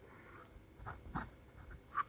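Pen scratching on paper as short strokes and marks are written, soft intermittent scrapes close to the listener over quiet background.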